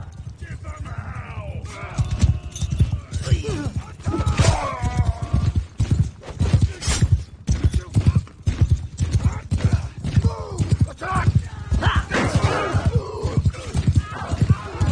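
Horse hooves clip-clop in the Mount and Blade 2: Bannerlord video game during a skirmish, a busy rhythmic patter of steps mixed with game clatter and voices talking over it throughout.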